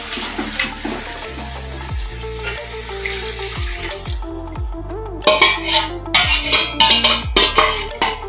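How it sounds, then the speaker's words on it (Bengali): Water splashes in bursts into a pot of Bengali-style home-cooked chicken curry during the second half, loud and close over steady low background tones. "এবার আমি জল ঢেলে দেবো"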